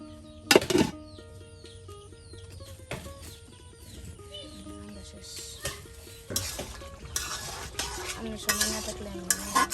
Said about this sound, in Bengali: মশলার সাথে মাংসগুলো কষানোর পর এখন বেশ কিছু পানি দিয়ে দেওয়া হলো